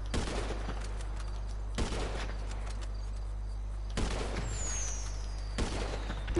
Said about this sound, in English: Look at them fireworks.